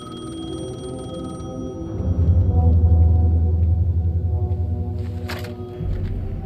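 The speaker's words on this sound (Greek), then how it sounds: "Πού χτυπάει το τηλέφωνο" A telephone rings inside a building in the video game Alan Wake 2, a repeated electronic ring over a low droning rumble and ambient game sound, with no speech.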